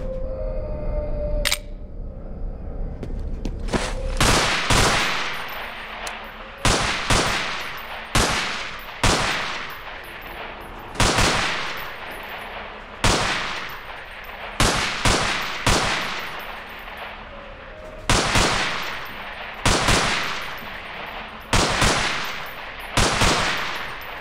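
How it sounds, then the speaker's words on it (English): Sharp gunshots in Half-Life 2 mod UnderHell ring out at pop-up targets, about a dozen loud close blasts in uneven bursts, each with a brief echoing tail, over a low ambient hum. "Nice shooting."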